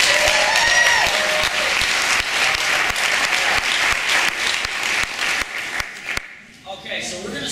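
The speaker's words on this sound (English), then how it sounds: "let's give her another round of applause" An audience at an iPad presentation event gives a loud round of applause with crisp individual claps, thinning out toward the end as a voice starts speaking.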